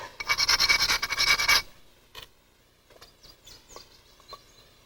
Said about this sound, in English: It's telling me I got to grind a little more.